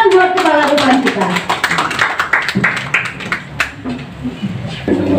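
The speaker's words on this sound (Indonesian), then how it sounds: "Tepuk tangan buat kepala depan kita." Audience clapping at a legal awareness seminar, a loose run of hand claps mixed with voices talking over it, fairly close and moderately loud before thinning out.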